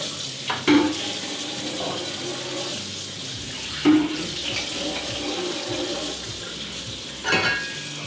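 Water runs steadily from a tap while dishes are washed, a continuous splashing hiss with a few louder clatters and bumps, close by, with no talk.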